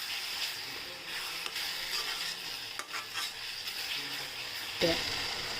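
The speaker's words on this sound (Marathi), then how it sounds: "आता हे छान परतून घेऊ आपण. आता आपण थोडी कोथिंबीर टाकू याच्यात आणि हलवून घेऊ याच्यात." Idli Manchurian sautéed in a pan, with coriander being added and stirred through: a steady soft sizzle with occasional scraping stir strokes and a brief clink near the end, close and even.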